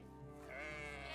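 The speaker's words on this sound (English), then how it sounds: "I have my goats and sheep here." Sheep and goats in the farm-life game Medieval Dynasty give a single drawn-out wavering bleat, close and fairly quiet, with no talk over it.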